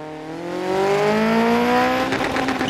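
Group B four-wheel-drive rally car in Dirt Rally 2.0, its small-displacement engine held at high revs and climbing steadily in pitch as it accelerates hard, loud and close, with a rougher, gravelly rasp near the end.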